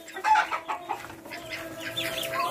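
Hens cluck in a farmyard that also keeps goats, a fairly close run of short, irregular, overlapping calls that rise and fall in loudness across the moment.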